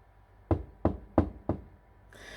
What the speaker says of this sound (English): I heard knocking at the front door.